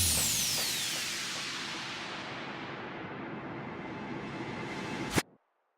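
Hardstyle production effects: a long, sweeping noise downlifter falling steadily in pitch, followed by a reverse clap swelling with reverb into a sharp crash hit near the end, then sudden silence.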